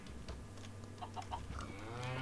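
A cow moos in the video game Minecraft, giving a brief, moderately loud low call over a quiet background hum, with no speech.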